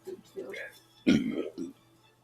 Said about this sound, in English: I guess it's the powder or something in it. It kind of collects and it makes me cough.